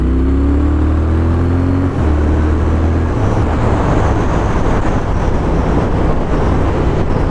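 A Triumph Thruxton R motorcycle pulls hard under acceleration, its engine note rising then blending into loud, steady wind roar as speed builds, recorded from aboard the bike.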